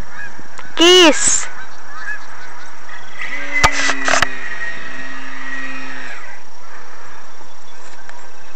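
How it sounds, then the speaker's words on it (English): Several loud honks from a goose close by, followed by a longer mechanical whirring hum with a couple of sharp clicks. "Geese!"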